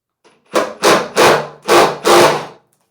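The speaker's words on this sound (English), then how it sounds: "so then you have to take a punch and knock them out." Steel punch driven with a hammer to knock broken, jammed bolts out of a Wheel Horse snow blade, five loud, close heavy blows in a steady rhythm with no talking.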